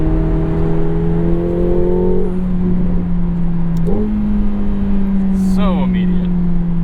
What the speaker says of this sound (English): Now that exhaust is heating up, we're hearing some of those barks.